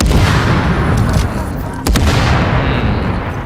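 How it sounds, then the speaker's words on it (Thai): Gunfire and a barrel explosion in the shooter game The Division: loud rapid shots and booming blasts, with a sharp burst near the middle followed by continued firing. "ตัวนี้ถ้ายิงถังมันมันจะระเบิดทันที"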